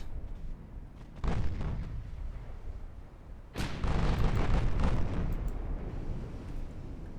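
Naval gunfire in the Ultimate Admiral Dreadnoughts warship game sinks an enemy ship. Two heavy deep booms land, the second louder and longer with a rumbling roar that trails off. Nothing else is heard.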